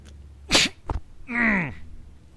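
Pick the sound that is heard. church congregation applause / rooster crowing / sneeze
sneeze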